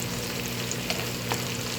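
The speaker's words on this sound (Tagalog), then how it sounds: "yung ginisang tawag ito, repolyo" Shredded cabbage sautéing in a pan, a continuous close sizzle and crackle with a couple of faint clinks over a low steady hum.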